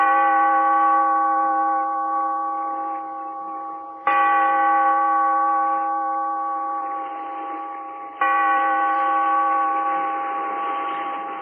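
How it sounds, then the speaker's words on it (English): A church bell tolled by a bellkeeper at the opening of the 1944 radio drama Weird Circle strikes three slow, evenly spaced times. Each loud, resonant stroke rings out alone and fades gradually before the next. "Bellkeeper, toll the bell"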